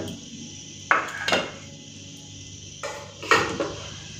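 Serving spoons clink against steel dishes as curries are spooned onto rice. Two short pairs of sharp clatters come close together, separated by a quiet hum.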